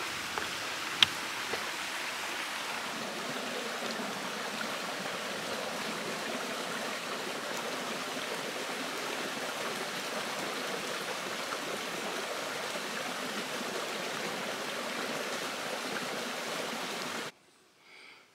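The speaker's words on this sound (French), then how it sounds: "je présume qu'à côté de mon campement, le ruisseau, il doit couler en masse" A mountain stream rushes beside a campsite in Mont Mégantic park, a steady, close, full-bodied flow of water that runs unchanged for about seventeen seconds before cutting off abruptly.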